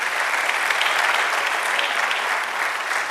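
Church congregation applauding for the Lord during a sermon, a steady, dense wash of clapping from a large crowd that holds evenly throughout without pause.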